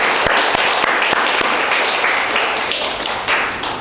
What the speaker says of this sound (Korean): 우리 모든 영광을 하나님께 올려드리는 의미에서 주님께 박수를 한번 쳐보도록 하겠습니다